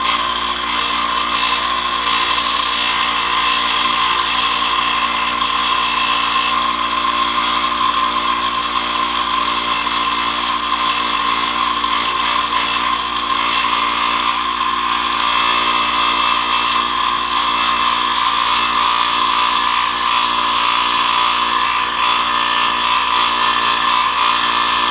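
Loud, steady whine of a bench grinder's wire wheel cleaning a snap ring from a 1974 Honda CL125 motorcycle restoration, running continuously for the whole stretch with a constant high hum and no talk.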